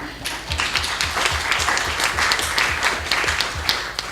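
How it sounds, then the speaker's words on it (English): Applause from a conference audience thanking a panel of speakers after a disaster-risk session, a steady crowd clapping with a low rhythmic thump underneath, fairly loud and continuous throughout. "So round of applause."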